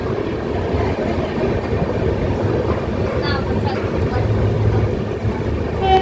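Kolkata Jammu Tawi Express at Raniganj railway station makes a steady rumbling clatter throughout, with faint squeaks and metallic noises over the constant noise.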